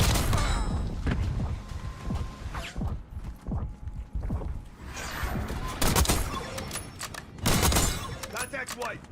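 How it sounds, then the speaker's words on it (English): C4 goes off in Black Ops 6 among rapid bursts of gunfire and mechanical clatter, with loud blasts standing out over the busy battle. "Detonating C4."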